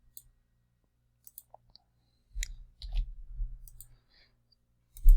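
Mouse clicks while using AWeber email software: a few faint, sparse clicks near the start, then a short burst of louder clicking and handling noise around the middle and another sharp click at the end, over a low hum.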